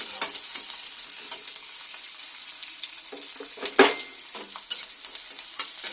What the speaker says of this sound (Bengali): ভালো করে ভেজে নেবো লাল লাল করে।